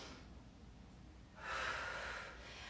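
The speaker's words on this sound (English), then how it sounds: "I'm breathing heavily today." Heavy breathing from someone mid yoga workout while opening the chest and shoulders: a quiet exhale, then a louder, airy breath swelling about halfway through and fading, close to the mic with no talk.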